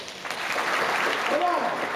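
An audience at a Beatles author presentation breaks into steady applause, with shouts and voices rising over the clapping.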